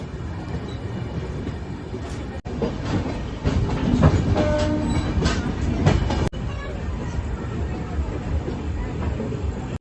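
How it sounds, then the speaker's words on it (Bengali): A passenger train leaving Bardhaman Junction rolls steadily along the rails, rhythmic clatter and rumble filling the scene, growing louder in the middle before settling back to a constant drone. "আমাদের ট্রেন ছেড়ে দিল বর্ধমান জাংশন থেকে"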